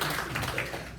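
A meeting audience claps together in a room for a brief moment, a dense patter of many hands filling the space.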